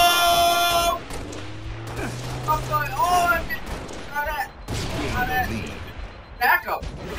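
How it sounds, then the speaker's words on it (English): Gunfire in the video game Halo Reach, with bursts of shots and booming impacts scattered through the stretch amid game sound effects, loud and irregular, with players talking over it. "Oh, I'm getting shot at."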